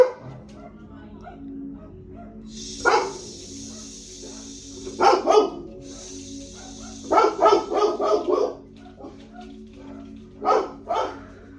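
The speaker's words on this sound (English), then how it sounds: "Dogs be wild." Dogs bark in several bursts, some in quick clusters of three or four, loud and close, with faint talk and a low steady hum underneath.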